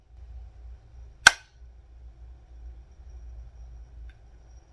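One crisp, short click of an unloaded pistol's trigger reset sounds over a quiet low hum, then nothing but faint room noise.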